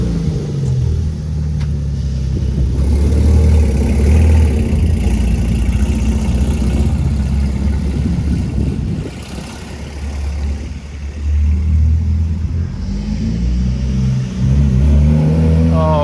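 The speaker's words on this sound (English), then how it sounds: "And now yellow car is going." A Porsche Cayman GT4 engine idles, then revs and rumbles as the car pulls off, the sound dipping and swelling over several seconds before settling again.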